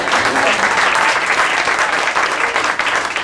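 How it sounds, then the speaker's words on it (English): Steady, dense applause from a comedy club audience at Laugh-a-Latte, loud and sustained without pause across the whole stretch, with a faint voice or two mixed into the crowd. "You can clap."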